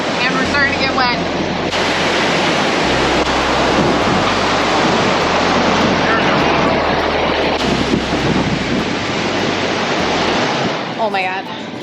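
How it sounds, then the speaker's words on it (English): Wind and rain lash against an RV during a storm with hail and tornado warnings, a loud continuous roaring wash with low rumbling gusts that persists for about twelve seconds before easing slightly at the end. "that wind came up"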